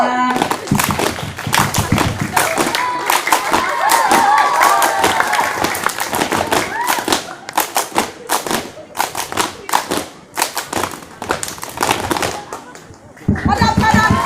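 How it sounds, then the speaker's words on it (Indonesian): Applause and cheering from a crowd at a Pramuka scout event at a school, dense rhythmic clapping sustained for most of the stretch with some voices mixed in, briefly dropping near the end before resuming. "Tepuk tangan."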